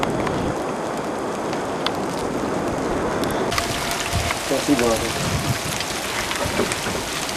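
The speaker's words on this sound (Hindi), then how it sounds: "फेरी मेडो में बारिश और छोटे छोटे ओले गिर रहे हैं।" Rain mixed with small hail falls at Fairy Meadow below Nanga Parbat, a dense, steady hiss of drops on surfaces that grows brighter and harder partway through, with a faint voice briefly beneath it.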